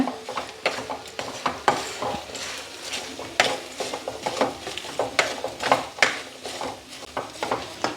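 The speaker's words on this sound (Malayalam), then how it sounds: "അഞ്ച് ടേബിൾ സ്പൂണ് മുളക് പൊടി നമുക്കിട്ട് കൊടുക്കാം അതിനുശേഷം നന്നായിട്ടൊന്ന് വഴറ്റുക" Chili powder being stirred and sautéed in a frying pan for a bilimbi pickle, with a spoon scraping the pan in an irregular rhythm of close, fairly loud strokes over a soft sizzle, no voices.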